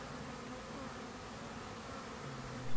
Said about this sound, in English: looking at the activity that is around the bees right now